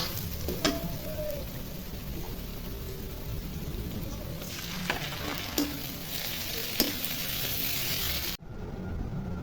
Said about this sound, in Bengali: পেঁয়াজ ভাজা হয়ে গেছে আর এখন আদা রসুন দিয়ে ভেজে নেব